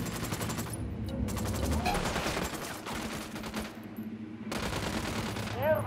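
Gunfire in Ghost Recon Wildlands: sustained bursts of automatic fire, loud and close, in long strings broken by brief gaps, with voices occasionally heard.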